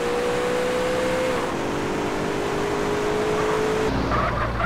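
A car engine in the video game Rodina RP runs at a steady drone with a sustained tone that dips as it shifts, then changes character near the end as the car pulls away, loud and close.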